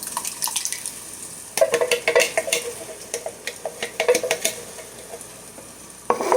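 Canned sauce is poured into a pot and stirred, giving scraping and clinking strokes of a spoon against metal in bursts, with a faint sizzle underneath and no talking.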